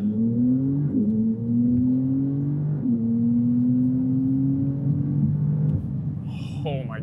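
A 640-horsepower car engine accelerates hard from inside the cabin, its revving rising in steady pitch sweeps with gear changes, loud and continuous; a voice exclaims briefly near the end.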